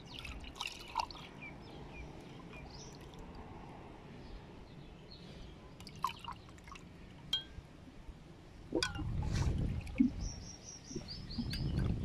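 Water trickles and drips into a clay glass while lemonade is made, light splashing and pouring at close range, louder near the end, with faint birdsong outdoors.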